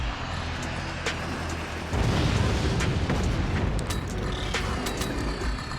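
Rockets launching and exploding in a shooter video game, a rumbling engine-like drone that jumps into a louder, heavier blast and roar partway through, with sharp cracks and impacts scattered on top.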